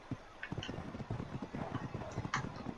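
A horse, the Equus in Ark Survival Evolved, is ridden at a brisk pace: a rhythmic, evenly spaced clip-clop of hooves that stays close and clear throughout.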